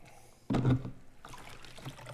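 A gold pan is dipped and worked in water, giving a short, loud splash and slosh, then a softer, steady watery swishing that continues to the end.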